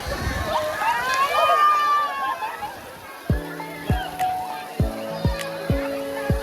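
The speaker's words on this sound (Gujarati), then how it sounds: "અહીંયા ફુવારો થતો છે જો અત્યારે ફુવારો થશે" Water from a fountain on the Tapi river at Galteshwar Mahadev temple sloshes and splashes up close amid people talking, then fades under a series of evenly spaced electronic tonal beeps.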